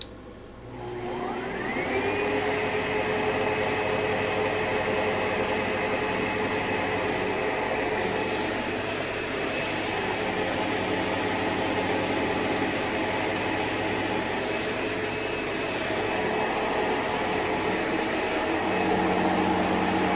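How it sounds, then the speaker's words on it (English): A vacuum cleaner starts up with a rising motor whine, then runs steadily with a loud, constant roar and airflow hiss, close by and with no talking. "it's a beautiful machine. So we'll just give this a quick run."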